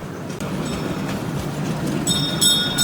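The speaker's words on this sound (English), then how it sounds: "The train takes you twice around the circle," A miniature ride-on train rolls along steadily around a circular track with a soft rumbling clatter, and a few brief high squeals near the end.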